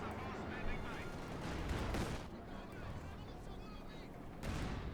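Rumbling artillery and tank fire from a field gun and a Panzer IV in a Company of Heroes 2 battle, dense overlapping booms and shots under continuous background din, with a voice talking over it.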